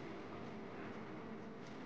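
A Mumbai suburban local train pulls out of Virar station on a rainy morning, heard from inside the carriage as a steady, low rumble of wheels and motors.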